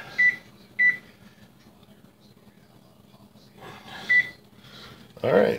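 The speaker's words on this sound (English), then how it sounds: "Set my timer." Kitchen timer being set while baking soft sourdough pretzels, giving three short sharp beeps spaced apart, with a clatter of handling at the end, fairly close in a quiet room.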